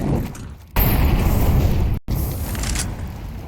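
An incendiary grenade in Counter-Strike 2 during a pro match on the Anubis map bursts into a loud roaring whoosh, then a sustained crackling fire roar with a brief dropout partway through.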